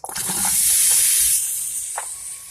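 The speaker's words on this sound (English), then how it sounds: "So we're gonna start sauteing." Vegetables for an eggplant mushroom risotto hitting a hot pan, a sudden bright sizzling hiss that swells and then settles into steady frying, close and loud, with a brief clink partway through.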